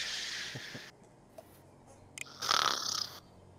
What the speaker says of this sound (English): Did I just hear snoring?